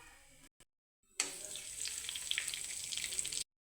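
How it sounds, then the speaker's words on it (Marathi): Cumin seeds hit hot oil for tempering and start a bright, steady sizzle that stays loud and close for about two seconds, then cuts off abruptly. A few quiet sounds come before it, and no one speaks. "फोडणी करण्यासाठी आपण जिरं टाकून घेऊ."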